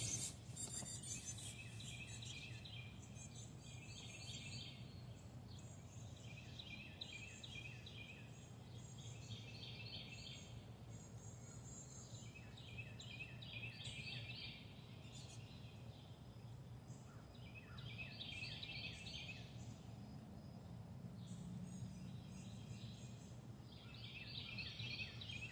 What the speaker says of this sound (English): I always have my early birds that are here out here with me before the sun comes up